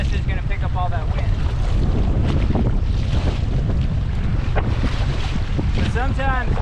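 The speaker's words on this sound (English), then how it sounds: "this is brutal because turning sideways, that's just gonna pick up all that wind" Strong wind buffets the microphone on a lake while a raft is paddled, a constant loud roar with water sloshing and faint voices underneath.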